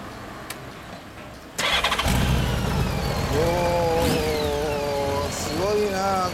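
A 2010 Honda Gold Wing GL1800 motorcycle with its stock muffler starts up and settles into a steady, close, loud idle, with people talking faintly over the engine.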